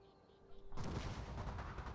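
A volley of gunfire aimed at enemy infantry erupts in a Shogun 2 Total War: Fall of the Samurai battle, dense, loud crackling shots bursting after a quiet moment and continuing as a sustained rattle.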